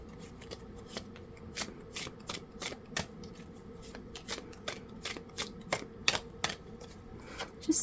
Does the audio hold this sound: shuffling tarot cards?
yes